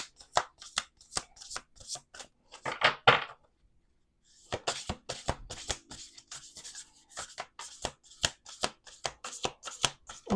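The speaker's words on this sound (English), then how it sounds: "We're going to do 2 more shuffles." Oracle cards being riffle-shuffled in repeated crisp bursts of rapid flutter, with a brief pause midway, close and clear with no talking.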